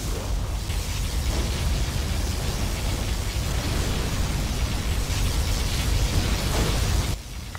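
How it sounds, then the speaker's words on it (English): Particle cannon from Command & Conquer Generals Zero Hour firing as a sustained, loud, rumbling roar with noisy crackle, holding steady for about seven seconds before cutting off abruptly. "Particle cannon activated."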